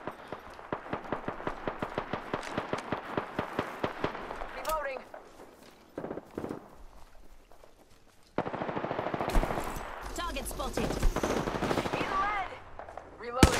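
Rapid automatic gunfire in a battle royale shooter, evenly spaced shots in a long burst, a pause with scattered single shots, then a louder dense volley of fire with a person talking over it.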